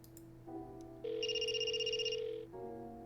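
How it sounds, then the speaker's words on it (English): A cell phone rings from inside a trash can in the point-and-click game Blackwell Deception, a steady electronic ringtone tone with bright repeating chirps that swells for about a second and a half over low background music, with no talking. "Jeremy's phone is ringing in the trash can."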